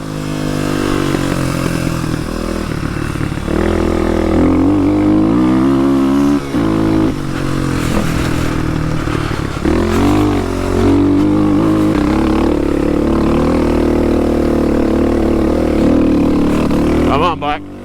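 A dirt bike engine revs and strains loudly while riding, a close continuous droning roar with pitch rising and falling; a rider's voice cuts in over it at moments.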